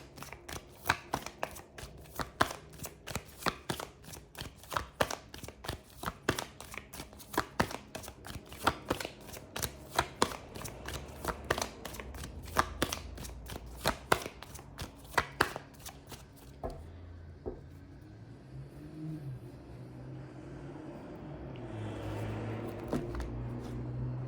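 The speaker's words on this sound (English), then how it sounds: "I'll get back to splitting the deck" A deck of cards is shuffled and split, giving rapid dry riffling clicks and flutters close by for most of the stretch, then softer handling and rustling as the cards settle.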